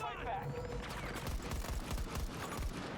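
Weapon fire in Battlefield 2042, with repeated rapid shots and impacts over continuous battlefield noise, while someone talks over the action throughout.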